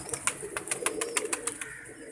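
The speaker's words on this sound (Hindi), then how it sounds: "ये देखें, ये कबूतर भी आपके सामने फिर रहा है।" A pigeon shifting about in its cage gives a quick series of sharp taps and flutters, roughly a dozen light clicks in an even rhythm, close and moderate in volume.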